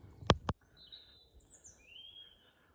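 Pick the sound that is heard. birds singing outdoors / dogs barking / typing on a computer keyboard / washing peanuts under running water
birds singing outdoors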